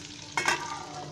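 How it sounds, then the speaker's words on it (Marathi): Stuffed brinjals drop into hot oil, giving a short sudden burst of sizzling that quickly settles into a soft steady hiss. "अशी मी आता तेलामध्ये ती टाकली आहे."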